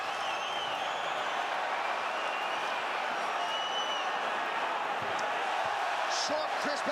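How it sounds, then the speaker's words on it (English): A large arena crowd roars steadily throughout an MMA heavyweight fight between Mark Hunt and Bigfoot Silva, a dense continuous cheer with scattered claps and thuds near the end. "And the crowd goes nuts as Mark Hunt slips away."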